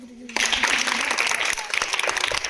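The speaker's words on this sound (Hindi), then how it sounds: "ताली बजाओ।" A group of children clapping together, a dense burst of hand claps starting after a brief pause and continuing steadily, with some voices mixed in.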